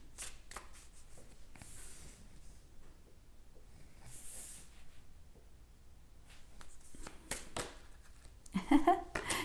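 Tarot cards being shuffled and drawn at close range: soft papery riffles and slides with light taps and rustles, fairly quiet, building to a brief busier flurry near the end.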